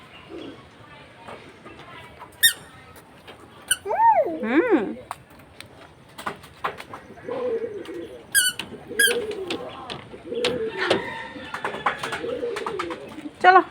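Pigeons on a small village rooftop crowded with vines, giving soft repeated coos and rising calls at close range, with a person talking intermittently around them.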